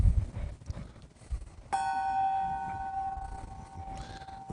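A gong struck once in a service hall, a sudden bright metallic strike ringing out with sustained shimmering tones that slowly fade over a few seconds, after faint rustling room noise.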